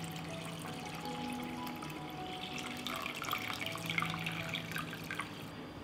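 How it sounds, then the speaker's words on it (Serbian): Cold water pours into a cooking pot lined with a cloth and packed with jars, a steady splashing trickle that builds slightly toward the end, quiet and close with no speech. "U šerpu sipam hladnu vodu do visine poklopca."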